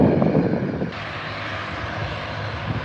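A Singapore Airlines jet turning at Adelaide Airport, its engines a steady broad roar heard from a distance and holding level without speech.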